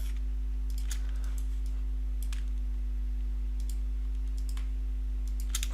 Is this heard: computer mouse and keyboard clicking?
yes